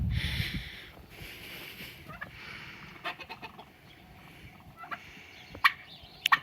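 Turkeys gobble outdoors near a chicken coop and run, in short scattered bursts at a moderate distance, with quiet gaps between calls and no talking.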